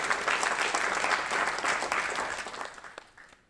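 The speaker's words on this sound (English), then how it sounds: "Applause to Lieven." An audience at the Ig Nobel Prize ceremony applauds steadily with dense clapping that fades out toward the end.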